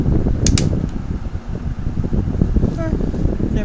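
An electric fan runs close by with a steady, loud airy whoosh and low rumble throughout, with brief faint clicks near the start.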